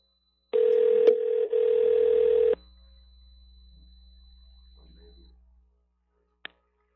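A telephone call ringing out: a single steady ring tone for about two seconds, then a low line hum that fades, with a small click near the end, close and clear.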